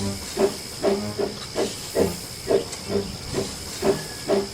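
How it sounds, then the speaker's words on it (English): Steam engine puffing and hissing as it gets up steam: a regular chuffing beat of about nine puffs over a steady hiss, close and moderately loud. "When he had steam up, Dudley snorted away."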